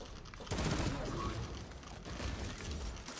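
Small, quick, accurate pistol fired in the sci-fi shooter Destiny 2, with sharp shots and rattling bursts over a busy game backdrop of booms and clatter.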